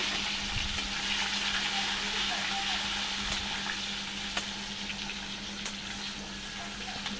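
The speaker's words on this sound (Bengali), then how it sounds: "তারপরে কেটে রাখা টমেটো, পেঁয়াজ, রসুন এগুলো আমি দিয়ে ভেজে নেব।" Cumin, chopped tomato, onion and garlic sizzle in a pan for a potato and soya chunk curry, giving an even, continuous frying hiss up close with faint occasional clicks, no one speaking.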